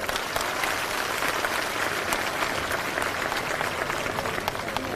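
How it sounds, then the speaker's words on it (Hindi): Steady, dense clapping from a large audience at a BSP political rally in Rewa, Madhya Pradesh, continuing evenly throughout at moderate distance with no talk over it. "एक बार जोरदार तालियां हमारे सभी बड़े बुजुर्गों के लिए।"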